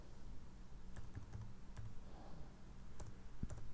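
Typing on a computer keyboard while writing program code, heard as irregular bursts of quick, light clicks and key taps against a soft steady background hum, close and fairly quiet, with no speech.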